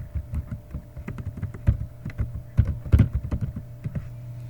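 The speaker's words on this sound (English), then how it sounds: "I believe I can just type in show variables by itself." Typing on a computer keyboard, a close, steady patter of key clicks in uneven bursts with a few harder strokes, no voices over it.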